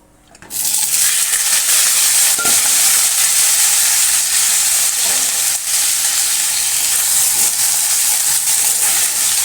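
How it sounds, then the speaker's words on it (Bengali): Chopped vegetables fry in hot oil in a pan, a loud, steady sizzle that starts abruptly and continues close up, broken by a few soft stirring scrapes, with no voices. "দেখো ভাজা ভাজা হয়ে গেছে এবার আনাজগুলো তুলে দেবো"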